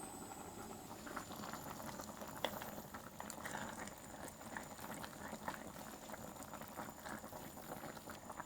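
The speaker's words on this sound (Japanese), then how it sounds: "火を弱めて蓋をして20分から30分煮込みます" Chicken and vegetables simmer in a tomato ketchup sauce with fish sauce in a covered pot over low heat, giving a steady, close bubbling and popping throughout with no talk.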